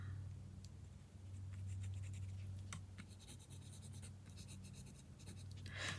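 A pen scratches across paper in short, faint, close strokes with brief pauses, over a low steady hum, and no one speaks.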